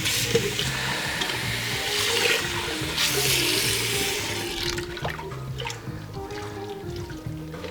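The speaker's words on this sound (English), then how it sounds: "I'm going to drain the rice." Cooked rice being drained, with water pouring steadily into a sink as a continuous rushing splash that thins out toward the end.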